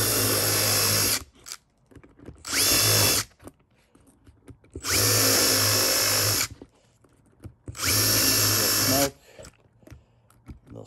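A power drill bores 1/8 inch pinholes in a wire base in four loud, close bursts of whirring, separated by short quiet gaps, with no voices over the drilling.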